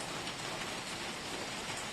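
Light drizzle falling at night, a soft even hiss of fine rain pattering on surfaces, steady and uniform with no voices.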